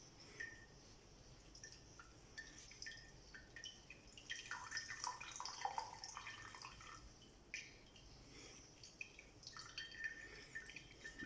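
Whey drips from hot homemade ricotta cheese being squeezed, a faint, quiet patter of small irregular drips and trickles close by, with no talking.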